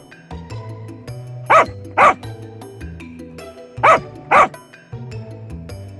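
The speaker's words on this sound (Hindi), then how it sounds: "कुछ कुत्ते उस पेड़ के गुफा के पास आकर भौं भौं भौं करके भौंकना शुरू करते हैं" Dogs bark in two pairs of sharp, loud, close barks, separated by a short gap, over a low background of music.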